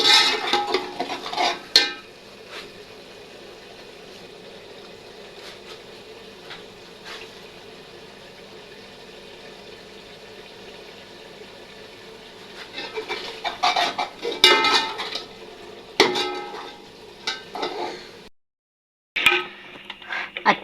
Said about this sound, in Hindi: ये देखो जी चम्मच नू को हिलाते रहना है